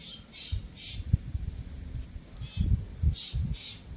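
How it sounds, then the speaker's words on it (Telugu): Faint high bird calls come in short bursts in a home garden, several brief chirps spaced through the clip over low rustling and handling noise nearby. "పక్షులు చూడండి ఎలా కిలకిలకిల రావాలో"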